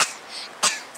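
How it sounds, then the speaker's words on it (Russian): A man coughs outdoors on a mild late-January day by the Volga, two short, sharp bursts about half a second apart, fairly close and with no talk over them. "Как мужик прям кашляет."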